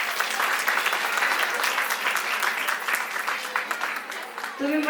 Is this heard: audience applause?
yes